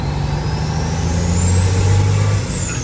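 Kenworth W900 with a Cummins engine and new breathers revving hard, a loud sustained roar swelling midway with rising whine, steady and close.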